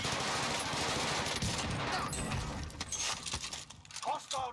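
Rapid automatic gunfire in the Warzone Rebirth Island video game, dense bursts of shots and mechanical clatter heard fairly faintly, fading into scattered effects near the end.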